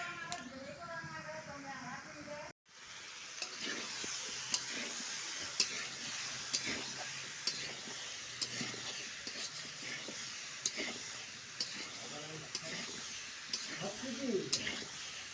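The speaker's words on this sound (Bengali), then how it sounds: "চলো আমি ভাজিটা বানিয়ে নিচ্ছি" Cauliflower bhaji frying in oil in a home kitchen, a steady sizzle with repeated sharp clicks of a spatula stirring against the pan, fairly faint, after a brief burst of other sound at the start.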